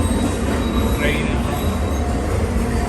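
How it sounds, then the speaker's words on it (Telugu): A New York City subway train rumbling loud and close, with steady wheel roar and a brief squeal, voices faintly mixed in. "ట్రైన్."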